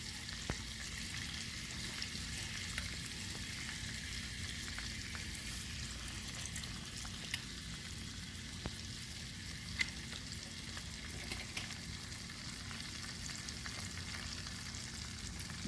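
Butter and lemon juice sizzle in a frying pan, a faint steady crackling hiss with scattered small pops and no voices.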